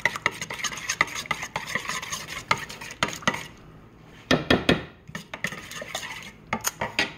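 A spoon stirs sour cream into a vegetarian bake mixture in a dish, with repeated scraping and clinking strokes against the dish, close and clear, with a brief pause midway.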